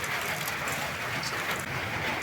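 Rain falling outside a home on a rainy day, an even unbroken hiss that holds steady throughout with no voices.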